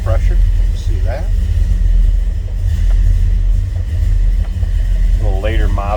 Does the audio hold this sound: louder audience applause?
no